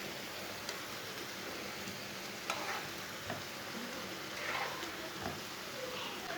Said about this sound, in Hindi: दोनों साइडों से उल्टाते हुए पका लेंगे। बस इसे जलने नहीं देना, चेक करते रहना बार बार।